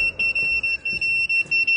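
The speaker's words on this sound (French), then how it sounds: "Désolé pour le bip" An electronic beep repeats in a fast, steady run of about ten short, shrill pulses, loud and close, with no talk.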